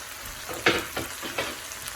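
Thick-cut medium onion stirred in a frying pan, with a few distinct scraping stirs over a steady low sizzle, close and moderately quiet.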